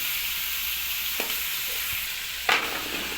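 Bottle gourd and tomato frying in a pan give a steady broadband sizzle throughout, with a couple of brief scraping stir sounds partway through and no voices.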